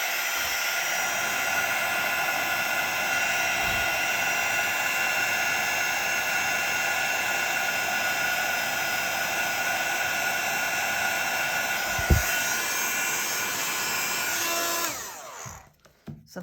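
Heat tool blowing steadily on embossing powder on a stencil card, a loud continuous whooshing hiss for about fifteen seconds before it cuts off with a brief clatter.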